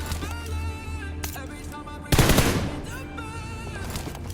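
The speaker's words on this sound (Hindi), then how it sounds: "अब इधर से भी फायरिंग आई थी" Gunfire in the PUBG battle royale game: a loud burst of rapid automatic shots erupts abruptly midway over steady game background ambience and then fades, with no talk.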